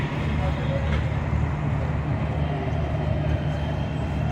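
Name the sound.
Awam Express passenger train arriving at station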